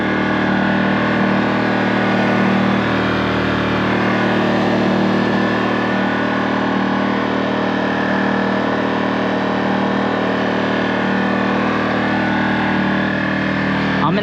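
A Predator 2000 portable generator drones steadily at close range, an unbroken mechanical hum with no change in pitch or loudness.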